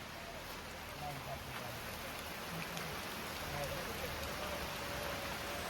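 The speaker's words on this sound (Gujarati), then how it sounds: "બહુ વરસાદ આવે છે આપકા." Heavy rain pours steadily at Banbha hill station near Surat, a dense, even hiss that fills the whole scene, with faint voices now and then beneath it.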